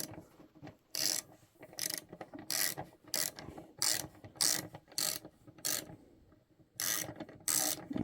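A Hyper Tough ratchet fitted with a Nano socket turns a 9/16 nut in the tightening direction, giving repeated bursts of close, crisp clicking with short pauses between strokes.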